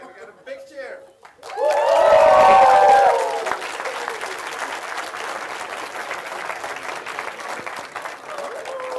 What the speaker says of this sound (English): can we get a big cheer?